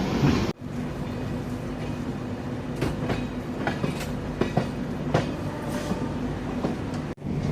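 Steady rumbling of the Chennai–Santragachi AC Express rolling along the rails, with periodic clicks and clacks of wheels over track joints, close and continuous.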